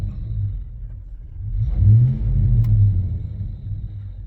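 Idling V8-type engine of a 1999–2006 Chevrolet Silverado, a steady close low rumble that swells briefly as if lightly revved, then settles back to idle.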